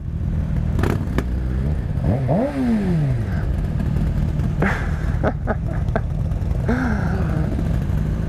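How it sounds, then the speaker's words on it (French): A scooter engine revs and passes by amid steady traffic rumble, its pitch rising then falling, with other clattering street noise around it. "Oh le scooter, et il est cinglé le scooter."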